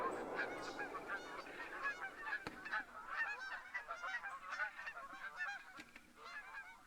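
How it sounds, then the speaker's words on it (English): A large flock of wild geese in the hunting video game Hunter: Call of the Wild honks continuously, a dense, overlapping chorus that sounds moderately distant and fairly faint. "A lot of geese on this map"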